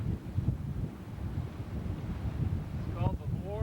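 Gusty wind buffets the microphone at a waterfront where a pleasure boat and parachuters are about, a constant low rumble with a brief faint whistling tone near the end.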